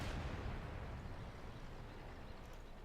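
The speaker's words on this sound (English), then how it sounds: "That was the artillery shooting me." Artillery fire in World of Tanks with a KV-2 battle going on: a heavy, rumbling blast that trails off into a long, noisy decaying roar, loud and close, with no talking.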